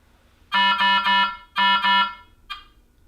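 Speaker test on an ultrafiltration machine: a loud electronic alarm tone sounding in two bursts of three and two beeps, then a short faint chirp, alone in a quiet room.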